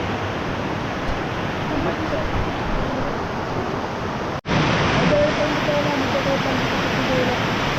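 Continuous broad rushing of a waterfall in Sigay, Ilocos Sur, loud and steady with a brief dropout midway, while faint tonal traces sit beneath the water noise.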